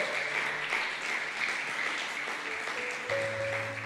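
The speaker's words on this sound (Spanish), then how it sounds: "Usted aplaude y le da gusto." A congregation applauds during a church testimony, steady crowd clapping at moderate level with a faint sustained tone and musical hum underneath.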